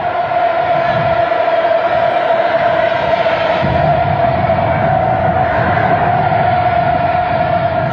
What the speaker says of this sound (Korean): 환영군중들의 친선의 환호소리는 더욱 고조를 이루고